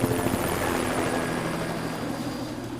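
A helicopter surveilling a neighborhood in a film thuds overhead with rapid rotor chop, loud and close at first and easing slightly as it holds steady, with no voices.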